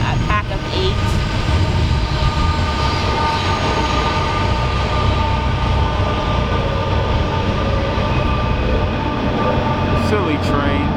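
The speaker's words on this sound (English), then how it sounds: "Silly train." A train passes close by with a loud, continuous rumble and clatter of rail cars and a metallic squeal over the top.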